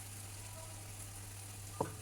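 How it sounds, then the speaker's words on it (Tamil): Ginger and garlic frying in a pan give off a faint, steady sizzle over a low hum, with one brief clink of a utensil near the end. "இஞ்சி பூண்டு வந்து போட்டுக்கலாம்."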